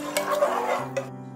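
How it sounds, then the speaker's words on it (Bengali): A spoon stirs dalia and dal with water in a pot, giving soft scraping swishes and a light clink over a low hum, close and brief. "সবকিছু ভালো করে মিশিয়ে নিচ্ছি।"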